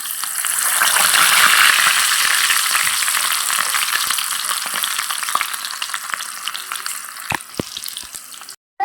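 Raw banana slices frying in hot oil in a toy-sized miniature cooking setup, a steady dense sizzle that fades slightly over time, with a few sharp clicks near the end before it cuts off.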